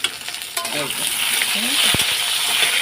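Mixed vegetables, including bitter gourd, mango and papaya, fry in a pan with a loud, close hiss, broken by a few scraping stirs and a sharp metallic clink midway; no speech.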